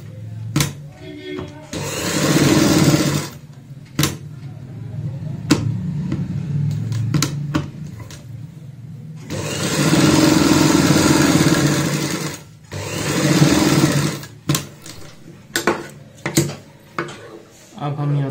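A sewing machine runs in bursts while stitching a baby frock, two long steady whirring runs and several short ones, close and loud, separated by quiet gaps and handling clicks.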